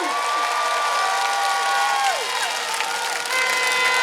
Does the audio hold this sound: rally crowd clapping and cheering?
yes